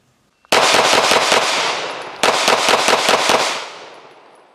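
Rapid strings of CZ P-10 F pistol shots ring out loudly at an outdoor range, two quick bursts of several shots each with echoing tails and no talking.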